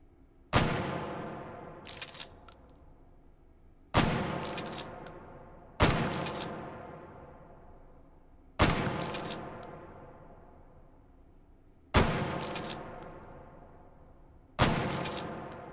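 Six rifle shots in the VR game Hot Dogs, Horseshoes & Hand Grenades, each a sharp loud crack with a long decaying echo, spaced a couple of seconds apart with faint metallic clicks of the action between shots.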